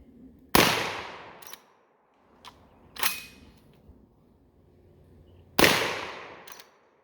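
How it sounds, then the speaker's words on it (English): A GForce GFY 1 bolt action shotgun fires three sharp, loud reports spaced a few seconds apart, each with a short ringing decay, with faint clicks and handling noise between shots. "But it's basically a bolt action shotgun. And it is shooting a little low."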